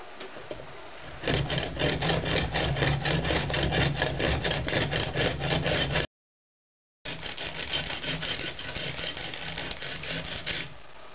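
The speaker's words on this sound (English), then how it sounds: "I think it's time for my lens grinder." An ice lens is ground in a homemade grinder built from deck screws, boards and a handle. It gives a steady rhythmic rasping scrape, strokes repeating quickly and evenly, broken once by a brief silence before the grinding starts again.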